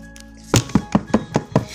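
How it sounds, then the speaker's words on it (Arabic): A door in the Toca Boca video game is knocked on six times in a steady, evenly spaced run of hollow, close thumps after a short quiet pause. "اهو صوت الباب بيخبط"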